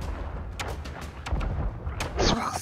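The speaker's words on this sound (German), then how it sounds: "Er hat eine Kanonenkugel geschossen." A ship's cannon firing a cannonball in the pirate game Sea of Thieves, with several distant dull thuds and booms spread over a couple of seconds amid low ambient rumble, ending in a sharper crash.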